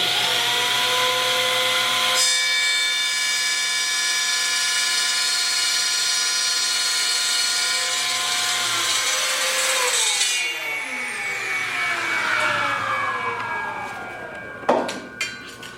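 Table saw with a taper guide set to zero cutting a piece of wood, a loud steady whining spin from the blade that shifts pitch as the cut finishes and winds down, with a few sharp knocks at the end.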